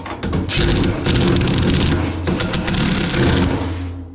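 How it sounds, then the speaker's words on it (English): A power driver sets screws into a door with a loud, close whirring drone, broken by short bursts at the start and ending as the motor winds down. "Put the other 2 screws in, and this thing should be done."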